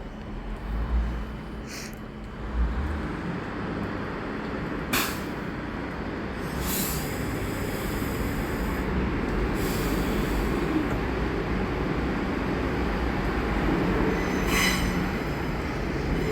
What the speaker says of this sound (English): Departing now we have 390005 working the 1149 Avanti West Coast service to London Euston from Glasgow Central.